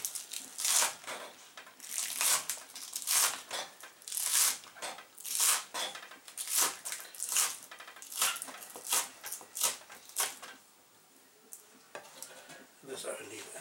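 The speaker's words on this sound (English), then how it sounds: "the spring onion I will also cut in slices like this" Knife slicing spring onion on a cutting board while cooking Chinese chicken hearts and gizzards, a steady run of quick, crisp chopping taps close by, repeated evenly throughout.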